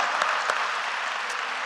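Audience in a university chapel service applauds steadily, a dense wash of clapping that holds at an even level throughout with no voices over it.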